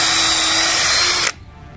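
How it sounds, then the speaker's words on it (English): Power drill pre-drilling holes in wooden swing set boards, a loud, close, steady high whine that cuts off abruptly near the end, leaving quiet room noise. "I'm going to do the holes, the pre-drill of the holes"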